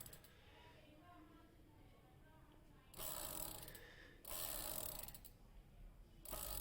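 A bicycle gear hub ratchet clicks after being tightened during a cycle service, with bursts of rapid mechanical ticking that start and stop in several spells, fairly faint and close.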